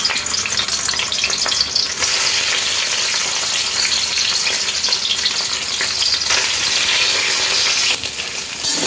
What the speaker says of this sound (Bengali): সয়াবিনটাকে ভালো করে তেলে ভাজবো।